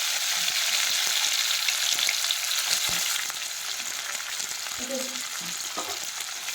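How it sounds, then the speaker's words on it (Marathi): Chopped onion frying and being stirred in hot oil after cumin seeds have crackled, a steady close sizzle with occasional scraping stirs, quieter after the first few seconds, no voices. "आपल्याला 1-2 मिनिट चांगला तेलावर नरम होईपर्यंत परतून घ्यायचा आहे।"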